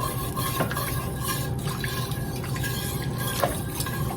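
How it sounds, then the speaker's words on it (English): A whisk scrapes and stirs steadily through flour in a pot of broccoli cauliflower cheese soup, a continuous close swishing with soft liquid sloshes and no talking. "I'm just going to whisk just a little bit more"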